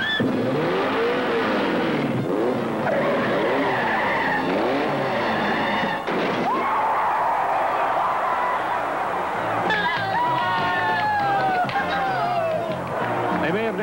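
A cartoon race car skids hard as its emergency brake is yanked, with long screeching tire squeals and a revving engine sweeping up and down under voices.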